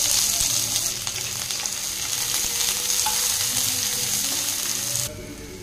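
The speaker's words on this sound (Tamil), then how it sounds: "வெங்காயம் வதங்கட்டும்" Chopped onions, one large and several small, sizzle and crackle steadily in hot oil in a pan, with the close, continuous frying broken by occasional stirring scrapes before dropping off near the end.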